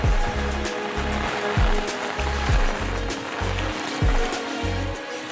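Heavy monsoon rain that has fallen nonstop for two days, a dense close roar of downpour with a repeating low thudding pulse running through it.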